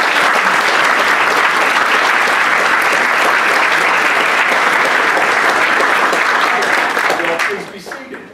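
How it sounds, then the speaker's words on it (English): A large audience at a Rotary meeting applauds loudly and steadily for several seconds, a dense wash of clapping that fades out at the end. "Give them a round of applause."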